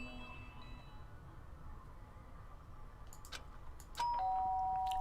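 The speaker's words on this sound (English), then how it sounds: "Ding dong." A doorbell in the Danganronpa: Trigger Happy Havoc video game gives a single clear electronic chime near the end, loud and sustained over quiet game ambience.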